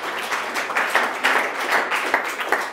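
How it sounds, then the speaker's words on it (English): A modest room of attendees at an associations presentation claps together in a brief, lively patter of hands, loud and near, with pulses rising and falling. "Round of applause for the gentlemen."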